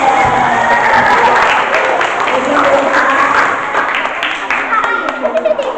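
A church Christmas gathering breaks into loud crowd applause mixed with cheering and children's shouts, voices rising in the din, which thins toward the end into scattered individual claps.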